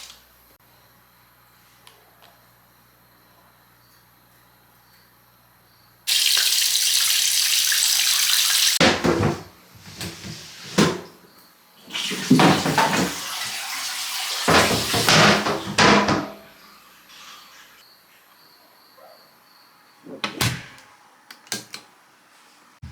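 Water running into a bathtub being refilled at home in Japan, a loud steady rush that starts partway in and gives way to irregular splashing and knocks, then quieter bumps near the end.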